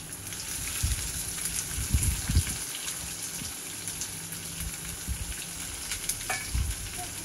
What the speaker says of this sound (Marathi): आणि कांदा लालसर रंगावर परतून घेऊया.